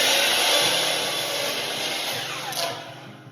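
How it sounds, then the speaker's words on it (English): A PVC pipe being cut in half with a power tool, a loud steady whining buzz close by that gradually fades, with no voices. "we got 10 feet of PVC, and we're gonna cut it in half"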